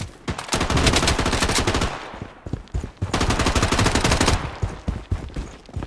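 Automatic gunfire in the BloodStrike shooter game comes in two long, loud, rapid bursts with a brief pause between them, then a few scattered shots.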